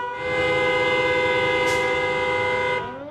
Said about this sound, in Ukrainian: Уже годину у всьому місті сигналять автівки.